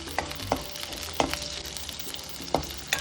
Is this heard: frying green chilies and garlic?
yes